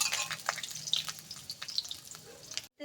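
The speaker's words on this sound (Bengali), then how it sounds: "গরম তেলের মধ্যে আলুর টুকরোগুলো দিয়ে দেবো এবং এগুলোকে একটু ভালো করে কষাই করে নেব" Potato pieces frying in hot oil give a bright, bubbly sizzle with sputtering pops, close and fairly loud, fading into brief silence at the end.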